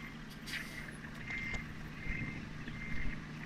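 A truck reverses slowly in the video game Farming Simulator 2013. Its engine rumbles low and faint under a thin, high warning tone that repeats at a steady pace.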